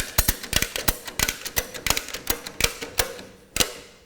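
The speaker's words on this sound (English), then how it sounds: "We then tighten the ratchet" A ratchet strap cinches around the belly of a drum on a fork lift drum rotator, giving a rapid series of sharp metallic clicks in uneven bursts, close and fairly loud.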